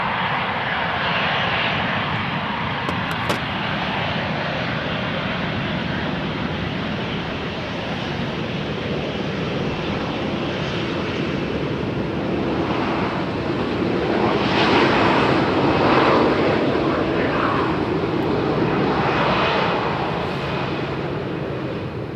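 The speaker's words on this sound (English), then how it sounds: "KLM 737 seems to be in more of a hurry than the Ryanair 737." A 15-year-old KLM Boeing 737-800 jet taxiing briskly at Amsterdam Schiphol Airport near the Polderbaan runway, a steady loud engine roar with broad rushing whine that swells slightly midway, heard outdoors with wind.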